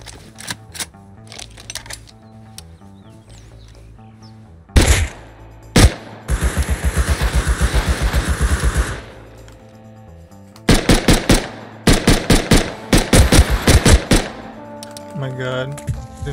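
AK rifle fire in the survival game Rust: several sharp bursts of automatic shots, with a sustained rapid stream in the middle and more clustered volleys toward the end, loud and close.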